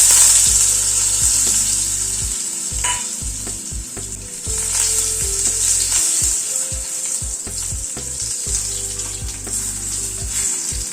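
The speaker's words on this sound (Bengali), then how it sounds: "আলুটাকে একটু আগে ভেজে নিচ্ছি।" Potato strips, parboiled and drained, frying in hot oil with black cumin, giving a steady close sizzle with repeated scraping stirs from a utensil throughout.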